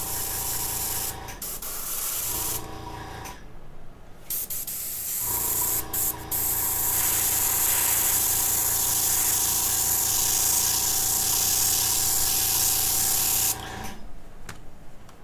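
An airbrush sprays light coats of paint onto a Moebius USS Kelvin model kit, a steady close hiss with a few brief stops and restarts near the start and end.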